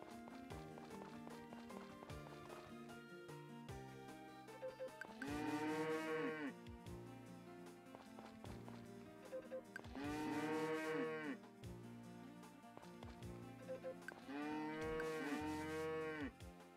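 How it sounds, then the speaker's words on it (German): Cartoonish cow moos from the farming video game Story of Seasons: Friends of Mineraltown, three long drawn-out lows repeating over bouncy background music and light clip-clop footsteps. "So, die Kühe."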